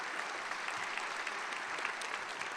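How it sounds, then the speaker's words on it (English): An audience at a Teacher of the Year school event claps in a steady, dense burst of applause that fills the room evenly, with no voices on top. "you can clap for that"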